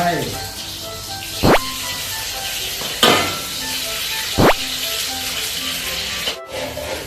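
Egg cracked into hot oil in a pan for Thai stir-fried eggplant with garlic: a steady sizzle runs throughout with a few sharp scrapes and clanks, while someone talks over it.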